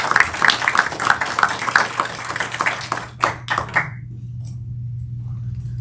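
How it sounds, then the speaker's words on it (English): Brief applause at a board meeting, a few people clapping irregularly for about four seconds over a steady low hum, ending with a couple of louder claps before quiet room tone. "A round of applause."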